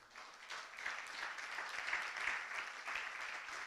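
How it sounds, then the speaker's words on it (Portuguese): Applause from a church congregation after a worship song, a steady, moderately distant wash of many hands clapping that swells slightly and holds for several seconds without speech. "Dê um aplauso a ele, vá."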